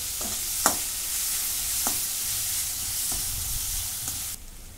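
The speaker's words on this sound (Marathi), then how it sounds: "आता इथं मी बारीक चिरून घेतलाय कढीपत्ता. तो टाकून घेते, परतून घेते." Finely chopped curry leaves sizzle in hot oil in a pan while being stirred, a steady close frying hiss with a few sharp scraping clicks from the spoon, cut off at the end.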